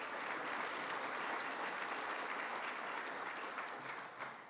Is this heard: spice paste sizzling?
no